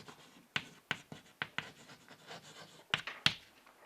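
Pen or marker writing on a board during a maths lecture on limits, a series of short scratchy strokes and taps up close, quiet and uneven in rhythm with no talking.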